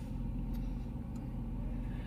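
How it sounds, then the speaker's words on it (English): A truck pulls out of a house-and-lot property in Antipolo, its engine a steady low rumble at moderate distance, continuous and fairly faint with no talk over it. "At papalabas na rin tong isang truck."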